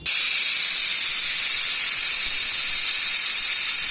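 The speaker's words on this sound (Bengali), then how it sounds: "2টো সিটি উঠে গেছে কালো প্রেশারটার" A loud, sharp hiss of steam bursts out suddenly from a black pressure cooker cooking mutton biryani and keeps blasting steadily at close range, with nothing else audible.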